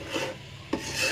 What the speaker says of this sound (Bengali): ভালো করে নেড়ে চেড়ে নিচ্ছি, অনবরত নাড়তে থাকবেন যাতে নিচে না লেগে যায়।